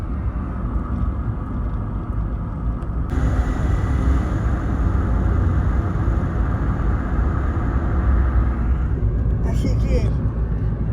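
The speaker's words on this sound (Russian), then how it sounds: "Я слышу, как шумит колесо" Road and wheel noise roaring up through a hole in the floor of a moving car in Cuba, a steady loud rumble that swells midway, with people talking over it.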